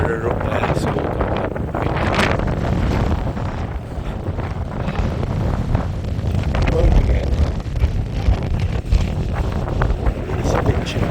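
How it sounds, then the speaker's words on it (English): Strong gusting wind on Ingleborough hill buffets the microphone with heavy, roaring low rumbles, surging and easing continuously at close range for about eleven seconds. "Very windy."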